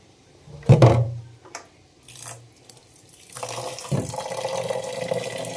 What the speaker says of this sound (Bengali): সাদা জল যতক্ষণ না বেরোবে ততক্ষণ আমি ধুতেই থাকবো